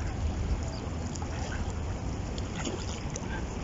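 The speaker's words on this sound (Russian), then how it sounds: "Утки гоняют голубей." Ducks quack and chase pigeons along a flooded riverside embankment, heard faintly over steady wind and water noise.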